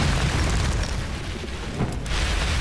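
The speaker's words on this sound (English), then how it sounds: "so let's do my favorite spell, Fireball." A fireball spell exploding in the VR wizard game Waltz of the Wizard, a dense, loud, rumbling boom that sustains with roaring texture throughout, with no talking.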